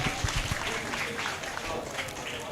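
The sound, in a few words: audience applause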